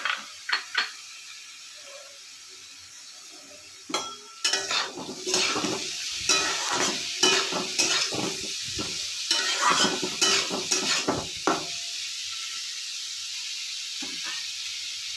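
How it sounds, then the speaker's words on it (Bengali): Capsicum stir-fried in a pan for a pointed gourd (potol) curry: a steady sizzle broken by a run of sharp, rhythmic spatula scrapes and clatters, close and fairly loud, with no talking. "এবার এটার মধ্যে দেখো ক্যাপসিকাম একটু দিয়ে দিচ্ছি কেমাগুলো।"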